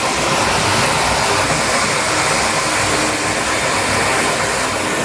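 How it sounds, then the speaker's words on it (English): A crud buster breaks up solids in a large residential septic tank during pumping, a steady, loud, broadband rushing roar of churning sludge and machinery that stays constant throughout with no speech. "Use our new crud buster to get the solids broken up."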